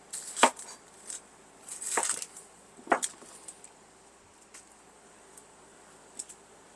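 A knife chops an onion on a cutting board in a few separate close cuts, sharp taps spaced irregularly with quiet gaps between them and fainter ticks toward the end.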